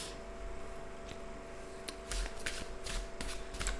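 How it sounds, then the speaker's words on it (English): A deck of tarot-style cards is shuffled by hand at close range, giving soft riffling and flicking bursts that grow denser toward the end, with a faint background hum and no talk. "I'll just take a minute as I shuffle and offer my thanks and prayers"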